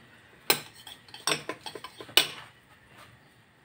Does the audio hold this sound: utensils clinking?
yes